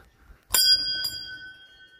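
A metal bell at Bhadraj Temple is struck twice, about half a second apart, each strike leaving a bright, ringing tone that decays slowly in a quiet setting.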